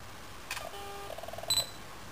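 A few quick, faint electronic autofocus beeps from a Fujifilm FinePix digital camera in a short burst, followed by a brief high chirp, over quiet background hiss.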